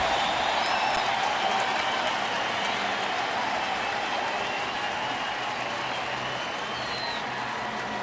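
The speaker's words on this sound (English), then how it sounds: "Here comes the crowd." Crowd at a Detroit baseball stadium during a Baltimore game, a sustained wash of applause and cheering with scattered whistles, loud and steady, easing off slightly toward the end.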